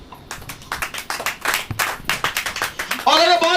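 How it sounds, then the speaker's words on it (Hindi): A church congregation claps in a quick burst of sharp, uneven hand claps, fairly close and loud, and a voice starts speaking right as the clapping continues. "ताली बजाओ।"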